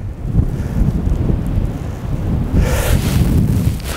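Steady wind buffets the microphone outdoors on a golf course, a low rumbling roar that swells and gusts throughout with no talking.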